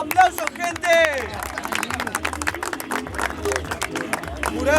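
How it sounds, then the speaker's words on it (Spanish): Audience at a freestyle rap battle clapping and cheering, a loud burst of applause and crowd noise with voices mixed in throughout. "¡Aplausos, gente!"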